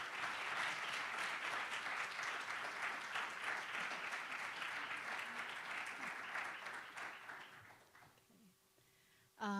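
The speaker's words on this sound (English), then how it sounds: "Let's give them all a round of applause," Sustained audience applause at a marine biodiversity event about the Verde Island Passage, a steady dense wash of clapping for around eight seconds that tapers off, followed by a brief sound at the very end.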